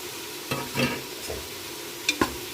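A spoon stirs biryani masala with mint, coriander and garlic paste in a pan, giving a few soft, separate scrapes and a faint sizzle over about two and a half seconds.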